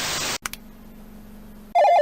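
A Motorola "Hello Moto" phone ringtone sounds after a burst of static and a low hum, its bright electronic melody playing loud and close at the end.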